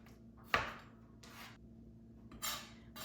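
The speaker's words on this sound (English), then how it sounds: "I'm going to finish giving these a rough chop" Knife roughly chopping peaches on a cutting board for jam, a few separate cuts with a sharp thwack and then scraping chops, close and fairly quiet, no talking.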